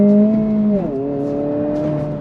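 A 2023 Honda Civic Si with a manual clutch pulls away from a stop sign, its engine note loud and close, dipping sharply at a shift before rising steadily again.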